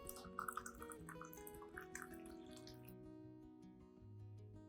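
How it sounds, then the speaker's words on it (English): Hot water is poured into a cup holding banana peel and rice, with faint dripping and trickling and a rising, gurgling pitch as the cup fills, quiet and close. "pour 500 milliliters of hot water into the cup containing the banana peel and rice"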